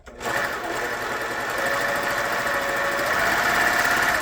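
A Smart 320 overlock sewing machine runs at a steady high speed, giving a loud, continuous close-up whirring drone with a fine rapid rattle from start to finish.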